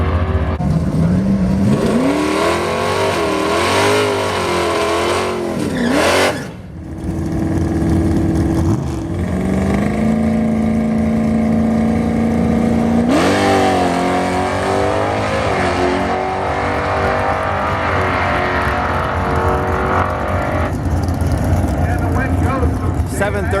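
Drag racing on a quarter-mile strip at a bracket race with a Plymouth Duster, engines roaring and climbing through the gears, loud and close, then another long hard pull, with an announcer talking over it.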